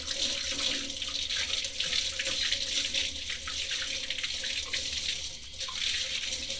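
Steady running water from a sink tap rinses paint out of a sponge, a continuous close splashing rush with no talk.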